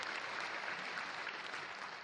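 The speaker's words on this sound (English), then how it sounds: "give them a round of applause" An audience at the CCP Presents keynote at Fanfest 2012 applauds in a steady, dense wash of clapping that holds evenly without any break.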